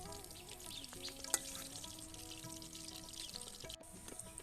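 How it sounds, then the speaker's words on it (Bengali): Pumpkin flower fritters frying in oil until crisp, a quiet continuous sizzle with faint bubbling and one sharp clink, close but low in level, with no one speaking. "আমি মুচমুচে করে ভেজে নেব তাহলে খেতে ভালো লাগবে"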